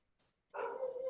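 A single short dog bark or yelp, fairly faint and slightly distant, after a brief moment of near silence.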